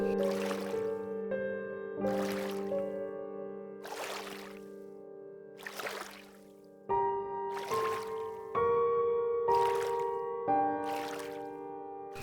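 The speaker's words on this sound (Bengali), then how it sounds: "নৌকা চলছে।" Cartoon-style sound effect of a wooden rowing boat moving across water, with rhythmic oar strokes repeating about every two seconds over a steady tonal background, fairly soft and without speech.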